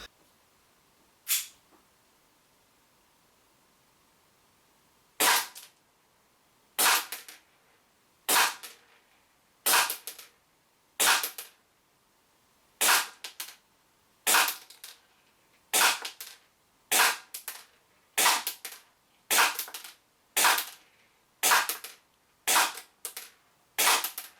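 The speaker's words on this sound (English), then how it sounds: "you'll see from the 10 meter firing test that it still does very, very well" Sharp, loud pops from a Secutor Rudis 1911 CO2 air pistol ring out alone: one isolated shot, then a steady run of about fifteen evenly spaced shots with brief gas hiss, during a 10-meter firing test.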